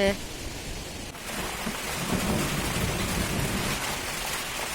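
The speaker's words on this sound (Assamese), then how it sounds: "পুৰা গাজনি মাৰি আছে" Steady rain pours down in a dense, unbroken hiss during a storm in Sivasagar, Assam, with deep rumbles of thunder rolling underneath throughout and bamboo leaves blowing about.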